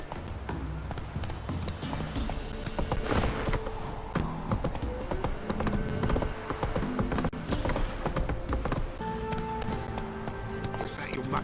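Horse hooves clip-clop steadily while riding in the Witcher 3 video game, a continuous trotting rhythm close by with a voice speaking over it.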